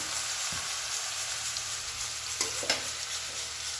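Garlic and onion frying in a pan, a continuous even hiss of hot oil close by with a couple of soft knocks from stirring.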